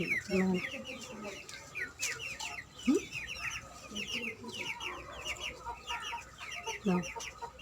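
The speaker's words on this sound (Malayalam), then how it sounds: "ഇതാണ് ഞങ്ങളുടെ ചെറിയ കോഴിക്കൂട്" Chickens cluck steadily inside a small backyard coop, with overlapping soft calls and occasional sharper squawks from several birds, fairly close and continuous throughout.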